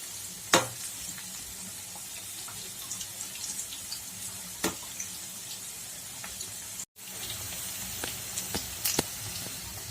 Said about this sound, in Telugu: గోల్డెన్ బ్రౌన్ కలర్లోకి వచ్చేంత వరకు ఫ్రై చేయాలి.